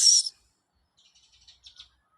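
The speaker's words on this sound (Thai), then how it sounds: "เสียงนกร้องจิ๊บจิ๊บ" A small bird perched on power lines gives one sharp, bright chirp, followed by a string of faint, quick twitters further off in near silence.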